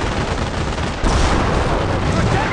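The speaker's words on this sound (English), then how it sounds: "They're shooting at us!" Bursts of gunfire from Company of Heroes, a World War II strategy game played on an iPad, crackle densely and loudly, growing heavier midway with battlefield noise under the shots.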